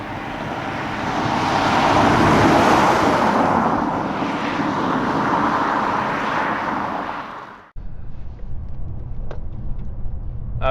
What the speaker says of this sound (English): there is an engine whirring away